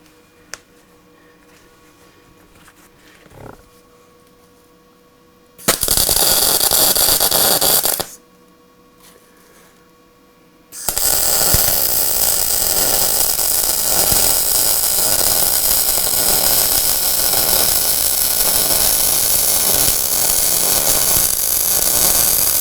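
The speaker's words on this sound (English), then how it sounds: "Grab your welder and come over and weld them up." Electric welding on butcher dies for a 12-ton coal iron press, quiet workshop hum broken by a loud steady hiss burst of about two seconds, then a longer sustained crackling weld that runs on to the end.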